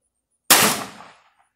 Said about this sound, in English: Cock it. And we're ready to fire.